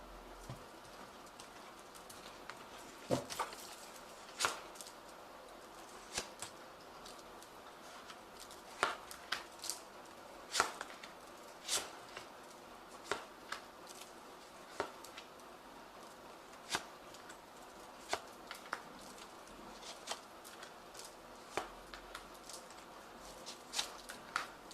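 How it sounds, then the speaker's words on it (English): A Zombie Tarot deck is shuffled at close range, giving soft, irregular card clicks and riffles over about twenty-five seconds against a faint, steady background. No one speaks. "I have shuffled this deck."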